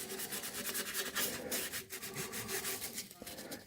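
Edge of a sheet of sandpaper scuffing the wooden top of a 1991 Takamine TD 32 acoustic guitar, a soft, close, raspy rubbing in quick back-and-forth strokes, quiet and continuous.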